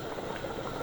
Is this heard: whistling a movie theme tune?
no